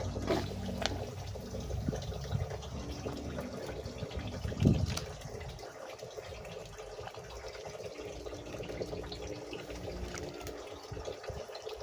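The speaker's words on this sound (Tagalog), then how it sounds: "kulo na po mga kananay yung tubig na pinakulo ko para sa aming tinulang isda" A pot of water boils for cooking a fish soup, giving a steady bubbling, watery wash with a brief louder clunk partway through, and no voices.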